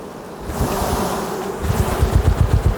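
Honey bees buzz close by in a dense, droning hum that swells and grows louder toward the end, with no talking.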